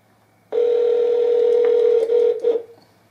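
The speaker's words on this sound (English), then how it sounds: "the phone should be ringing." A steady telephone ringback tone sounds loud and close through a Bluetooth speaker (DBPower BX-600), holding one pitch for about two seconds before cutting off in short bursts.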